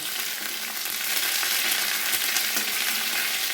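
Tender greens and dal mixture frying in a pan for South Indian sambar, giving a loud, even, close sizzle that holds steady throughout with faint stirring and no speech.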